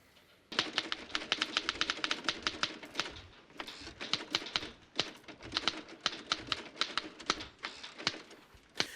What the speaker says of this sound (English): Man, that sound of the typewriter